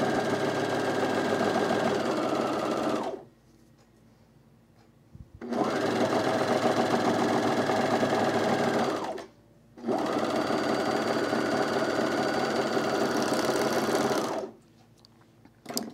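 A coverstitch or serger sewing machine runs through fabric for a camisole in three long bursts of steady, fast mechanical whirring, each stopping abruptly with quiet gaps between.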